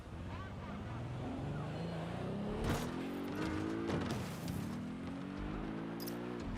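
Supercar driven in the video game Watch Dogs: Legion, its engine rising and falling through gear shifts with steady road noise throughout and a couple of brief sharp bursts.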